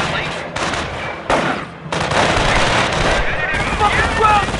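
Rifle fire in a combat video game mission rattles in dense, loud automatic bursts with only short gaps, and shouted voices mix in with the shooting.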